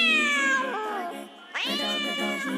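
A long-haired pet cat meows twice, each call a clear, drawn-out cry that falls away, with a brief pause between them. The cat is close and loud, and nothing else is heard.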